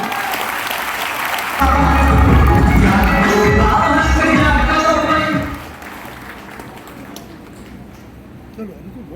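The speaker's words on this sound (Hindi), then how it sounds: "एक बार जोरदार तालियां" An audience at a live RCM business motivational program in Malda bursts into loud applause for about four seconds, then it fades out under a quieter room.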